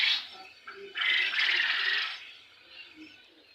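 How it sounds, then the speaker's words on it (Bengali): Dubai jumbo quail in a breeding farm call in shrill, close chirps, with a louder sustained call in the middle and softer calls trailing off at the end. "দুবাই জাম্বু কোয়েলের পাখিগুলো"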